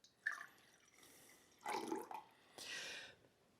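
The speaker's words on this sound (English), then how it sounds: "We're going to start with orange juice in here," Orange juice is poured into a cocktail shaker glass in three short, soft splashing bursts with quiet pauses between them, faint and close by.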